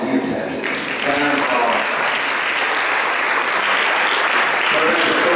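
A large crowd at an awards ceremony bursts into loud, sustained applause that quickly swells and holds steady as a dense roar of clapping.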